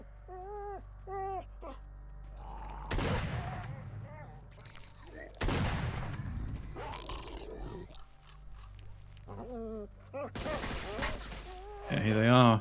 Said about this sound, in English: Yeah, they're firing already. I think I heard bullets.